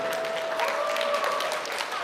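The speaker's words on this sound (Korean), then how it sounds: "박수로 맞이해 주십시오." A crowd at a campus busking event applauds to welcome the performers, with continuous, even clapping throughout and a faint tone running beneath.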